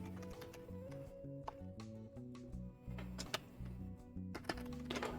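A Klipper 3D printer runs its nozzle-cleaning macro close by, giving a steady mechanical whir with stepped, melodic stepper-motor tones and scattered small clicks and ticks, with no one talking.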